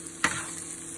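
Hot pepper sautéing with garlic in a pan for a ham and eggs breakfast, a single sharp stir or scrape up close followed by a steady soft sizzle that continues alone.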